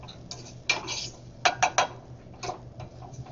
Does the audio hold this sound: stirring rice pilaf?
yes